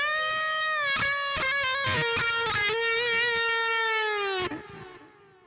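A bright Vola Oz ROA guitar with single-coil neck pickup played through the Toneforge Jeff Loomis amp plugin in high-gain lead mode: a sustained, vibrato-laden melodic line with quick picked notes, ending in a held note that fades.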